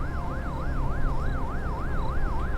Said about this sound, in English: the siren sounded very American